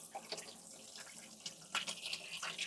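Water runs from a tap to rinse thick ice off a frozen Realme C75 phone, a steady splashing hiss with brief bursts and drips, close and fairly quiet, no talking.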